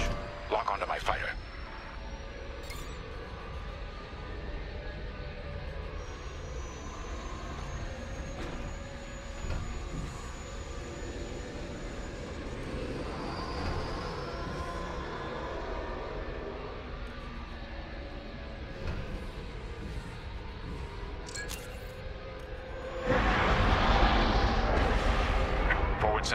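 Starfighter engines in Star Wars Squadrons, a steady low droning hum with rising whines that builds into a louder roaring surge as the fighter launches from the hangar, under talk.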